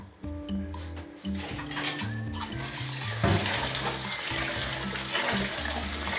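Rice for pulao is swished and rinsed in water in a pot, with sloshing, scraping and light clinks of the container, close by.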